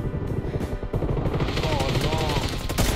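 In the mobile battle game PUBG Mobile, gunfire crackles in rapid bursts of shots under game ambience and a voice, some shots sharp and near, others overlapping in quick succession.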